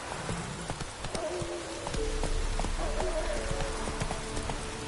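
Horse hooves clip-clopping at a gallop in The Witcher 3, a quick rhythmic clatter of repeated hoofbeats under a game soundscape, with a horse snort or whinny rising in the middle.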